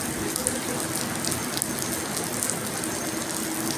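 Heavy rain with strong wind, a dense and continuous rush of drops striking surfaces with scattered sharper taps, steady and fairly loud throughout, with no voices.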